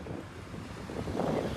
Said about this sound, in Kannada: ಅಲೆ ಎಲ್ಲ ಫುಲ್ ಜೋರ್ ಅಲೆ ಹೊಡಿತೈತೆ, ಯಾರನ್ನು ಬಿಡ್ತಾ ಇಲ್ಲ ಹೊಡಿಕೆ.